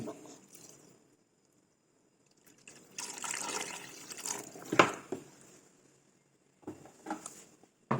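Water poured into a pot for chicken sotanghon soup, a soft splashing pour in a few bursts separated by quiet gaps, close and fairly faint.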